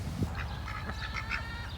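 Several ducks quack in short bursts at close range over a steady low rumble, their calls overlapping in a lively backyard pen.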